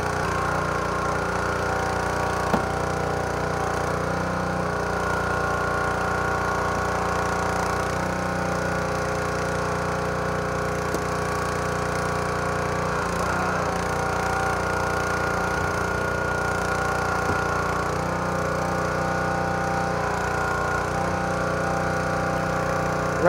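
Rescue equipment making relief cuts through the roof of an overturned vehicle during an entrapment rescue, heard as a steady, loud mechanical engine drone with a pulsing vibration that runs without pause.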